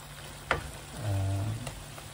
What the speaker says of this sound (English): it's a stir fry curry coming along